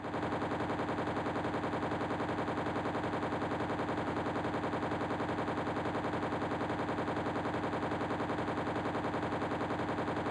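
Turret gunfire in the Call of Duty J2ME mobile game pours out as a continuous, evenly pulsing machine-gun rattle, loud and unbroken from start to finish with no talk.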